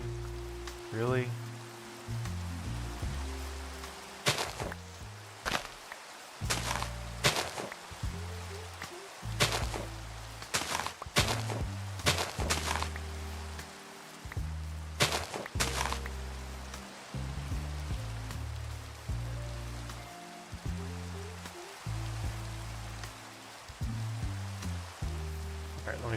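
Rain falling in the video game Minecraft, a steady soft patter running under repeated thumping block and footstep sounds, a brief pitched sound near the start, and someone talking over the gameplay.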